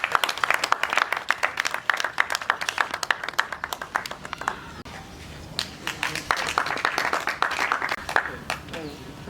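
A live audience applauds volunteer educators at a World Autism Awareness Day event, the clapping dense and steady throughout with a brief dip midway before building again.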